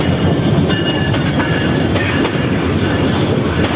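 A passenger train rolls through a railway station in Bangladesh, loud and close, with a continuous rumble, clattering wheels and a faint squeal from the rails.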